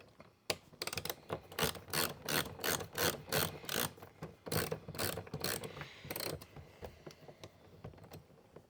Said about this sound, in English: Then I got a screw there to take off that I think is 7mm.